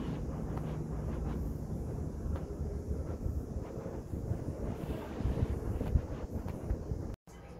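Cool wind gusting outdoors near a building lobby, a steady low rumble buffeting the microphone throughout, briefly cutting out near the end.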